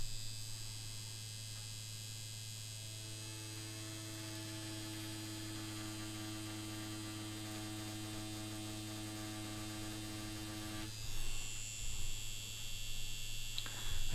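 A Yilong F5 wireless tattoo pen runs steadily for the whole stretch, giving a constant electric hum and buzz with a faint harmonic whine that shifts near the end. The pen sounds close, and no one speaks.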